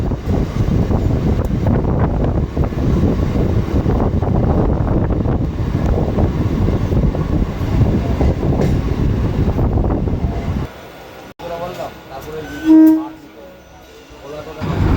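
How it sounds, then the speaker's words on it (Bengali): A local train on the Krishak Special run pulls out of Madanpur station, its loud, continuous rumble and wind rush filling most of the stretch before dropping to a quieter lull with a brief tone near the end. "মদনপুর থেকে আমাদের ট্রেন ছেড়ে দিল"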